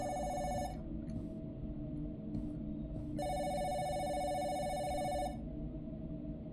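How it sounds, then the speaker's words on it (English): A ringing telephone in the game Self-Checkout Unlimited, bursts of electronic bell trilling that stop for a couple of seconds and then resume, steady and fairly loud over a low background hum. "I'm not answering that phone."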